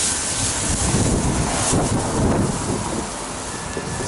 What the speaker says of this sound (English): Sorry if it's a little windy out here.